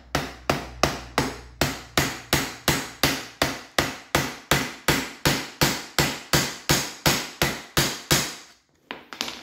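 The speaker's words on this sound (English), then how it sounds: "And give it a tap with a hammer." Sharp hammer taps on a Triumph Spitfire seat during a seat cover change repeat in an even, rapid rhythm for several seconds, loud and close, then stop abruptly.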